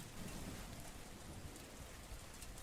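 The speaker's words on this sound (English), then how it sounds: "It started raining" Rain falling in the horror video game Something in the Woods, a steady, dense hiss of raindrops near a shack in the woods at night, faint and continuous with no voices.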